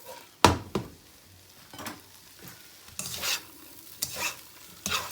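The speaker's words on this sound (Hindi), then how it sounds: "मिक्स करेंगे उसको अच्छी तरह से। चावल नीचे नहीं लगने चाहिए" Egg fried rice with chilli and soy sauce is stirred in a hot pan, a soft sizzle running under several sharp scrapes and clacks of the spatula at uneven intervals. No voices are heard.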